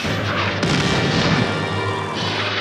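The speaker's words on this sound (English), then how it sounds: "The roar of gunfire replaces the talk of statesmen" Gunfire and shelling from the German invasion of Poland in an old newsreel rumble in a dense, continuous roar, with heavy booms thickening midway and no speech over it.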